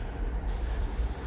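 An airbrush sprays paint over a stencil onto a shad-pattern fishing lure, giving a steady close hiss that starts abruptly and continues evenly with no talk.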